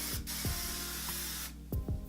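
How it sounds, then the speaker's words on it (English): Hairspray from an aerosol can misted over a whole head of hair in two pairs of short, sharp hissing bursts, close by, with a near-silent pause between them. "So I just spray my whole hair."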